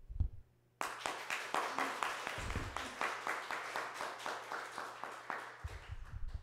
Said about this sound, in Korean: 제가 박수 한번 하겠습니다.